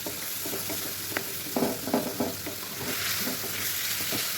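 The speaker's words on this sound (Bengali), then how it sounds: "একদম খুব ভালো করে চিকেনগুলি আমি ফ্রাই করে নেব এই তেলেই" Chicken fries in oil with a continuous, moderately loud hiss, and a few spoon scrapes and taps come through as the pieces are turned. No one speaks.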